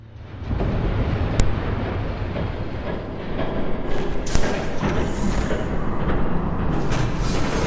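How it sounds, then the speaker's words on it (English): A train approaches in a Batman video game, a heavy rumbling roar that builds and grows louder with metallic clatter and rushing noise, filling the scene without talk. "There's a train coming."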